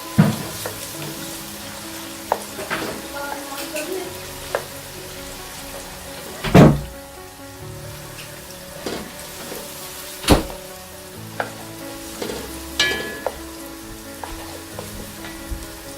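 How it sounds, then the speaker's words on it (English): Steady sizzling of onion frying in hot oil in a pot, with occasional stirring clunks and a couple of sharp knocks against the pot. "Frying my onion."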